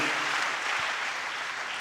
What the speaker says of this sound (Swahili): Alafu tumpigie Bwana makofi mengi.